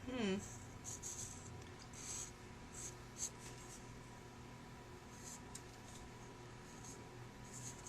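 A pencil scratches and strokes across paper in a quiet room, short soft scraping bursts in an irregular rhythm, faint and close, with a brief vocal sound at the start.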